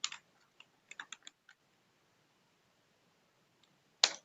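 Quiet, sparse typing on a computer keyboard, a handful of separate soft key taps in a short cluster, a long pause, then one louder click at the end.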